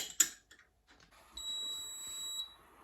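A Cosori air fryer gives a single steady electronic beep tone that holds for about a second, preceded by a brief click and clatter, with quiet room background.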